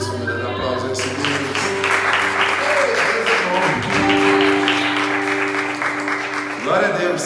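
Church congregation clapping and cheering together during a worship service, a loud sustained wash of applause lasting throughout, with music or voices underneath and a brief dip partway through.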